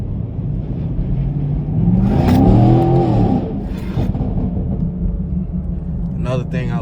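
Inside the cabin of a sixth-generation Chevrolet Camaro with the factory MPP exhaust, the engine rumbles steadily and then swells into a louder rev lasting a couple of seconds before settling back to a low drone. Faint voices come and go over it.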